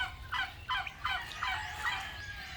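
Outdoor turkeys kept together with chicks let out a run of four or five rattling gobbles in quick succession, moderately close over a steady background hum.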